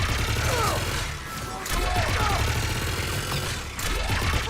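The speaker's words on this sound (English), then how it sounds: "Just following the gunfire." Gunfire in the Mass Effect 3 video game, with bursts of shots and busy combat noise running continuously across the stretch under other game effects.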